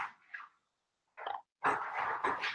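A dog makes a few short, faint whimpering and yipping sounds nearby in a quiet room, separated by brief pauses.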